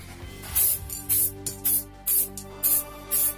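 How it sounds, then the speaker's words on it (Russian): A spray can sprays lacquer onto a rifle handle in six short, loud hissing bursts at a fairly regular rhythm, with quiet gaps between them. "Надо покрасить рукоять, точнее полачить её."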